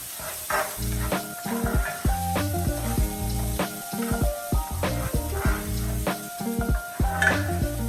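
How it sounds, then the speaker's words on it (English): Shallots fry in a pan until slightly brown, giving off a continuous crackling sizzle. Steady tonal background music plays over the frying. "So here's the shallots cooking, and we're just going to cook these a little bit until they're slightly brown"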